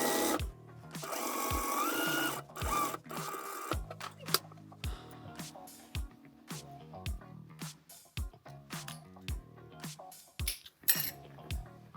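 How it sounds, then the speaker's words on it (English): A sewing machine stitches pieces of old garments into a coat, its needle rattling in bursts of quick repetitive clatter broken by short pauses, with occasional light clinks, up close and without talk. "I will sew this until here"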